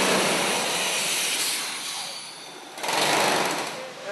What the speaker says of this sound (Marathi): ड्रिलिंग मशीन आहे ॲटलास कोको कंपनीची. त्याला आपण ड्रिफ्टर म्हणतो.